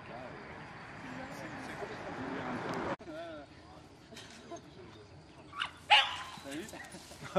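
A dog whimpers and gives a few short barks amid people talking, with quieter gaps and a sharp yelp near the end.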